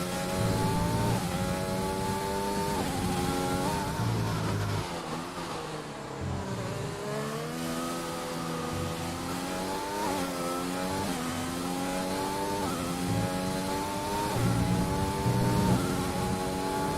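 Race cars from a racing video game pulling out of the pits at the British GP, several engines droning and revving together with rising and shifting pitch, loud and continuous, no voices.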